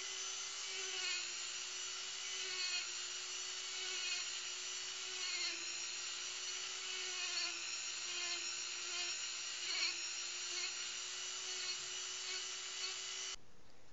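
A small high-speed rotary tool with a small sanding disc whines steadily and continuously, a thin, piercing buzz with slight pitch wobbles as it grinds.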